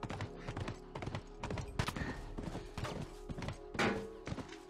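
Horse galloping in the video game The Last of Us, rapid clip-clopping hoofbeats mixed with thuds and game effects, fairly close and steady over the whole stretch.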